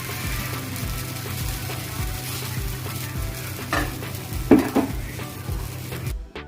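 Dosa batter goes onto a hot tawa for masala dosa in a home kitchen, with a dense sizzle running throughout, broken by a few utensil scrapes and knocks near the end before it stops abruptly.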